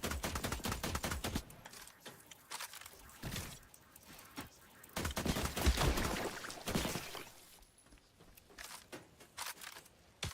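Gunfire in The Last Caretaker game rattles out in rapid bursts of sharp, close shots, with a heavy volley early, a pause, then another dense barrage before tapering off.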